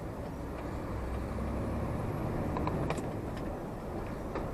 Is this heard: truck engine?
yes